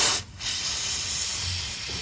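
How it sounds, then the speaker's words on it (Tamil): Glosil chain lube sprayed onto a motorcycle chain and sprocket, a brief puff then a continuous close, loud aerosol hiss lasting about two seconds. "இதுக்கு ஃபஸ்ட்டு லைட்டாக ஸ்ப்ரே அடித்து பார்ப்போம்."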